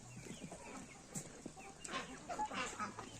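Soft, scattered clucking from chickens foraging for grain, faint and close, with low murmuring and rustling in a quiet outdoor setting.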